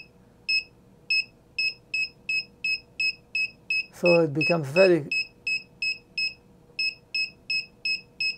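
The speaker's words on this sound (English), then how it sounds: "If there is an obstacle, it will beep faster depending on the distance." An ESP32-driven buzzer serving as a car reverse range warning gives short, evenly spaced electronic beeps at a steady rapid pace, clear and close, with a brief stretch of a person talking over the middle.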